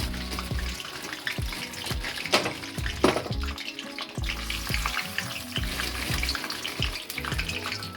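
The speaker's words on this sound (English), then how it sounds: "I'm just going to put some chips in here to fry." Chips deep-frying in hot oil for homemade fish and chips crackle and bubble in a dense, steady sizzle, close and continuous, with occasional sharper pops.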